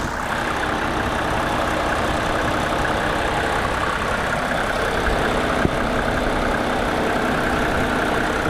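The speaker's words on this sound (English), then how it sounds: "I'm gonna show the engine running" A steady, rumbling diesel engine of a 1987 Mercedes-Benz 300TDT idles continuously at close range, unchanging throughout with no voices.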